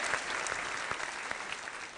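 Sustained applause from a television studio audience on a Kannada couples reality show, dense and steady clapping that fills the whole stretch with no talk over it.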